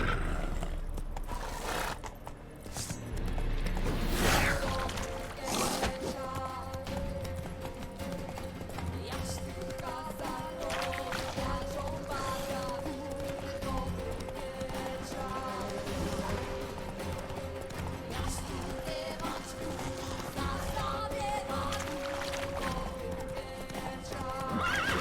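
Roach the horse galloping in The Witcher 3, with a continuous near clip-clop of hooves and neighing, beneath a sustained game music drone and occasional speech.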